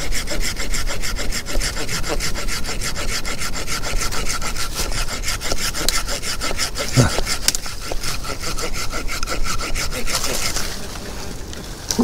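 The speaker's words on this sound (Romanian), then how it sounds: "Drujba manual. Nu faci gălăgie." A hand saw cuts through wood with steady, rapid back-and-forth rasping strokes, close and continuous throughout.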